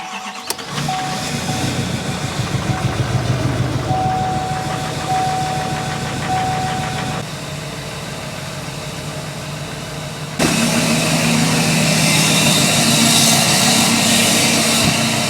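A Mitsubishi Evo 8 engine turns over and settles into a rough, steady idle, its note shifting a couple of times as the revs rise slightly, on a cold day.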